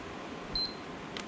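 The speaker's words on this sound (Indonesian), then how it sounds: "Saat tekan dia bunyi bip, tahan 7 detik, nanti dia bunyi bip lagi, tapi sekali" A PlayStation 3 console gives one short, high electronic beep while its power button is held, faint against a quiet room hiss, with a second soft blip near the end.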